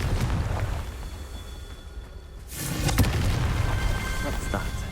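Confringo spell explosion in the Hogwarts Legacy video game, a sudden deep boom that rolls out into a rumbling tail, preceded by a voice and steady game background sound.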